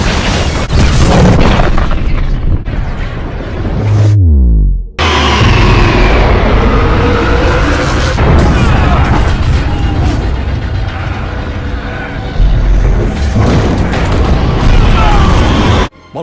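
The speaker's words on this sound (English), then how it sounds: "It's a bomb." A Star Wars bomb packed with rhydonium aboard a ship goes off in a loud, booming explosion, a dense roaring blast that rumbles on for many seconds with rolling surges and a brief cutoff partway through.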